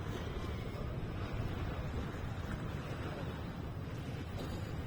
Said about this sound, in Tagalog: Malakas yung alon niya eh